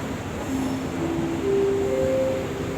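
KRL commuter train riding out of Palur station, a steady rumbling interior hum with rising whining tones from the motors as it gathers speed, no voices.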